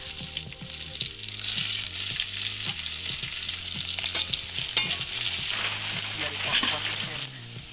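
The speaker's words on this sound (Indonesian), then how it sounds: "Jika minyaknya sudah panas, baru kita masukkan bumbunya." Spice paste frying in hot oil in a pan for a stir-fried banana blossom dish, a loud continuous sizzle and crackle with repeated rhythmic stirring scrapes throughout, close and without speech.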